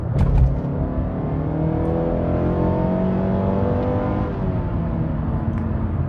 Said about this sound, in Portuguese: Vou acelerar aqui, olha, 3, 2, 1, pisei.